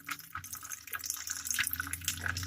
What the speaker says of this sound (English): Draining the fat. Oh, down the sink.